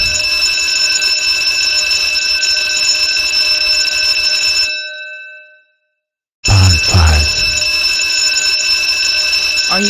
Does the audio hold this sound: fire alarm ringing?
yes